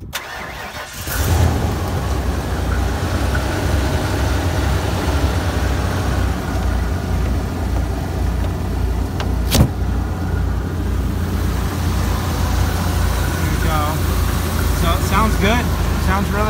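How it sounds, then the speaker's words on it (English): A 1996 Dolphin 34-foot motorhome engine cranks briefly and catches, then settles into a steady, loud, rumbling idle that continues throughout, heard close by with no talk over it. "we'll go ahead and start up the motorhome just so you can hear it start"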